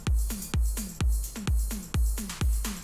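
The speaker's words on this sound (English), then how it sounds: "I don't like a heavy sidechaining, because it'll sound like this." An electronic music track under heavy sidechain compression: each steady kick drum sharply ducks the surrounding pads and synths, which then swell back up, producing a strong rhythmic pumping with no speech.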